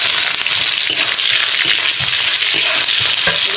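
Onion and whole spices tempering in hot oil, a loud continuous bright sizzle close up with faint stirring, no talking.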